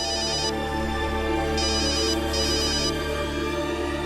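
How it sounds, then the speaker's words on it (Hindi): A phone ringtone plays loudly and continuously, a repeating electronic melody over a steady tonal drone, with no voices over it. "है सिद्धार्थ का फोन"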